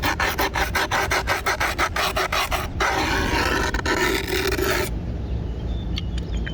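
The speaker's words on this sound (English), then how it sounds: "We can use our screwdriver, and we can just score the edge of the board like this." A screwdriver scores the edge of a skateboard deck in quick, rhythmic rasping strokes, followed by a longer continuous scrape, close and loud with no voices.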